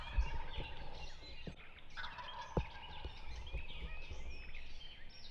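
A wild turkey gobbles from a distance on public land in Indiana, its rapid warbling call rising over a quiet outdoor background with a few soft thumps nearby.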